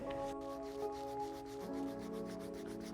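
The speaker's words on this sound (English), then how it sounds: "We'll also be using sandpaper, 400 grit and 600 grit to get the midsole nice and smooth before the paint job." Sneaker midsole on a Knicks Air Jordan 3 being sanded smooth with 400 and 600 grit sandpaper, a close, steady run of rhythmic rubbing strokes repeating about every fifth of a second, with faint tonal background music underneath.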